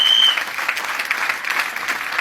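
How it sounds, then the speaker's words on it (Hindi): An audience applauds steadily at a Hindi-language business presentation, a dense, even wash of many hands clapping that continues throughout at fairly high level. "ताली जरा थोड़ी सी कम"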